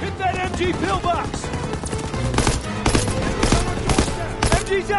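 Rapid machine gun fire from an MG pillbox in a Call of Duty WW2 battle at Hill 493 during the Battle of the Bulge, loud and continuous bursts mixed with other gunfire and shouted talk throughout.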